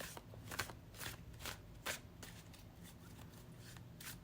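Tarot-style card deck being shuffled in repeated riffles and rustles, close and fairly quiet, with steady soft bursts roughly every half second and no talking.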